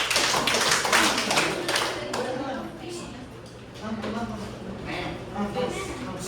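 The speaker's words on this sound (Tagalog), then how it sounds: "bigyan ng 5 palakpak si Lori" A classroom group claps together for a classmate, a burst of quick, fairly close handclaps at the start that thins out, with a teacher's voice talking over and after it.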